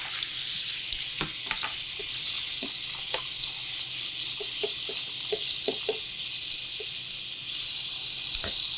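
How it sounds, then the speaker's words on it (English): Green beans rinsed under running tap water, a steady broadband wash of water with scattered light clicks and knocks of beans shifting in a colander, close and continuous. "give them a rinse"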